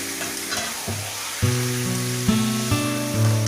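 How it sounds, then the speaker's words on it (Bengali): Steady loud sizzle of spices frying with marinated chicken liver and gizzard, close up, with a low humming tone underneath and a few sharp bursts as the pan contents are stirred, no voices. "মশলাটা আমি ভালো করে কষিয়ে নেব। তারপর ম্যারিনেট করা মাংসগুলো আমি দিয়ে দেব।"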